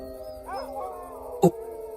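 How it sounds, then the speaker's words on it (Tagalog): A dog howls at night in a rural Philippine village, a short rising, wavering howl close by, followed by a brief sharp knock or thump. "nagulat kami nang marinig naming umaalulong ang aso nila"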